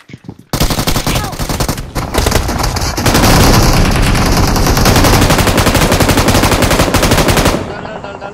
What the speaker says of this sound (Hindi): शॉटगन क्यों चला रहा है?